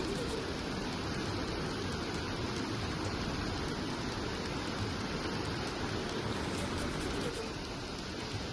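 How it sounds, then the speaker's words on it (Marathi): Roughly 3000 cusecs of floodwater pouring over the submerged Rajapur weir on the Krishna river during heavy rain, a steady broadband roar, constant and fairly distant, with no voices. "राजापूर बंधाऱ्यावरून जवळपास 3000 क्युसेक पाण्याचा कर्नाटकात विसर्ग होतोय"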